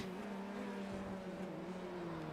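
Formula 3 race car in a sim racing game at Monza running over curbs, a steady high engine drone with rough scraping texture, continuous and alone without talk.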